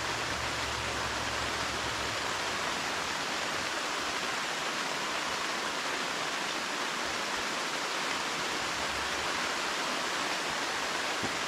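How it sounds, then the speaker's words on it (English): Steady rain falls on the fabric of a seven-person Ozark Trail tipi tent, a dense, even hiss with no breaks, heard from inside at a moderate level. "I love rain on a tent."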